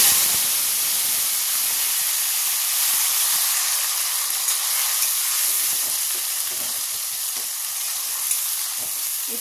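Ground paste of tomato, ginger and green chilli hits hot oil with fried cumin seeds, bay leaf and dried red chilli for a Bengali coconut aloo dum, giving a steady, close, loud sizzle and hiss with occasional stirring clicks, no voices.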